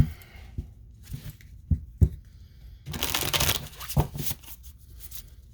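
Oracle cards being shuffled by hand in a few soft, papery riffles, with a longer burst of dense flicking near the end, close and fairly quiet with no one talking.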